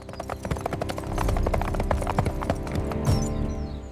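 Horse hooves clip-clop in a quick, steady rhythm under a low hum. A soldier's saddled horse is heard in an animated folk tale.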